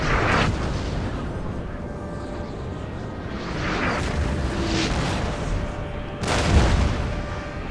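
Artillery fire from a Napoleon Total War battle at Waterloo, a continuous rumbling roar of distant cannon with a few louder booms rising out of it, no voices.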